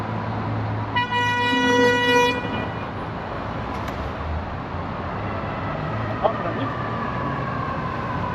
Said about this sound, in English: Thought the guy was honking at me, but he was honking at the guy to go with the arrow.